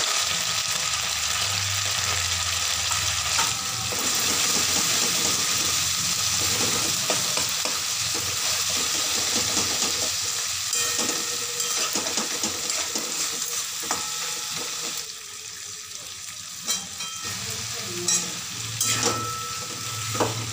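Cauliflower and potato sizzling loudly in a pan with ground spice paste, salt, turmeric, green chilli and tomato, a dense continuous frying hiss with stirring scrapes throughout, close and without talk.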